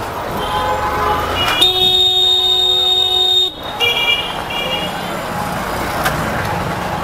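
Busy traffic jam on a market road in Patna fills the scene with engine noise and a long, loud vehicle horn blaring for about two seconds, with more distant honking around it.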